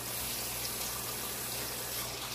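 A kitchen tap runs steadily while a plate is rinsed under it, giving a continuous, even hiss of flowing water with no talk over it.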